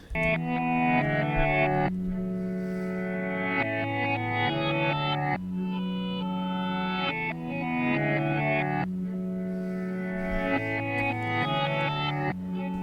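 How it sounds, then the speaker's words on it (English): Swelling sustained guitar chords reversed, with smeared, backward-sounding attacks, repeating in a looping phrase with heavy effects and no voices, as a UK drill beat sample. "sometimes when you reverse it, it doesn't really sound like it's playing in the right order"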